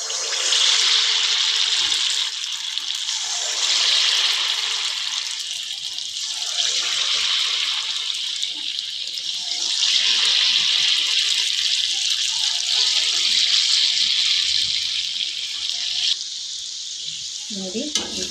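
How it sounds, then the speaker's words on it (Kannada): Mysore bonda batter dropped into hot oil, frying with a steady, continuous sizzle and crackle close by, interrupted by a brief clatter near the end. "ಎಣ್ಣೆ ಕಾದೈತಿ. ಒಂದೊಂದು ಬಜ್ಜಿಗಳನ್ನು ಬಿಡ್ತಾ ಇದ್ದೀನಿ."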